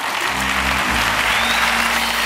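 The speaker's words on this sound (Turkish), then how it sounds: "Alkış." Steady, dense audience applause in a studio setting for a Turkish entertainment show, continuous and loud throughout with no pauses.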